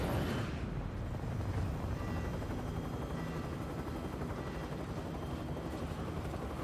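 Aircraft engine of a Hellcat fighter plane in the video game Call of Duty Vanguard, a loud, steady droning roar that holds evenly throughout, close and constant with no talking.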